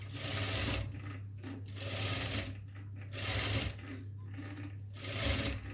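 A sewing machine stitching the shoulder of a double-lining cotton frock runs in a loud, steady whir close by. It runs in several bursts, each lasting about a second, with brief slowdowns between them.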